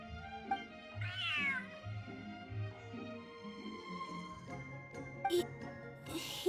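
A cat in the Genshin Impact game meows several times, one drawn-out rising-and-falling call followed by shorter mews, heard close and clear over soft background music with a faint jingle.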